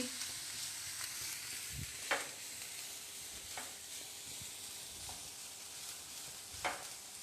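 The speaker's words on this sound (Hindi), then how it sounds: "बस अनियन को हमने ज़्यादा नहीं भूनना है, सिर्फ 2-3 मिनट के लिए सौते करना है।" Onions sauté in a pan with a soft, steady sizzle and crackle, punctuated by a few sharp spatula taps and stirring scrapes against the pan, heard fairly quietly with no voices.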